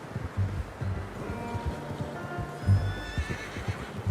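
A horse in Red Dead Redemption 2 whinnies clearly over steady clip-clopping hooves, with rustling and wind in the background and no talk.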